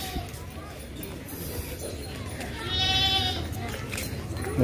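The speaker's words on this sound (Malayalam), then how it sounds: "ഇഷ്ടം പോലെ ആടുകൾ." Goats bleating on a rural road among livestock farms, a short bleat rising clearly near the middle over a low background murmur, fairly faint and somewhat distant.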